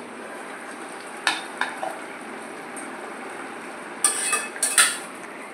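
Spices with ginger, green chili paste, yogurt, salt, turmeric, sugar and a splash of water sizzle steadily in a pan, with a few sharp scrapes and clinks of a spoon stirring them, no voices.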